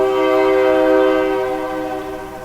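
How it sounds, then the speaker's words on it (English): A loud, sustained train horn sounds as a rich, steady chord that blares close by for the whole stretch and fades slightly toward the end, with nothing else heard. "Choo-choo train."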